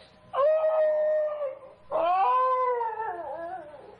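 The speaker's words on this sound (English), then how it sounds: "Now, what's all that? Why, it's the Higley dog." A dog howls in a 1950s radio drama, two long mournful wavering howls, the second sliding and trembling as it fades, close and loud with no talk over it.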